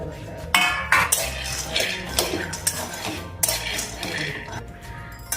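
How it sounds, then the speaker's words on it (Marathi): Peanuts dry-roasting in a kadhai over a medium flame, stirred with a metal spoon, give close, irregular clinks and scraping clatter that come in bursts throughout. "मीडियम फ्लेमवर हे खरपूस असे भाजून घ्यायचे."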